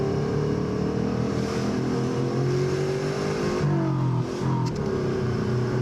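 A turbocharged Subaru GL-10 with an EA82T engine drones steadily up close from inside the car, its engine pitch dipping and rising briefly as the driver double-clutches through a gear change with worn shifter bushings.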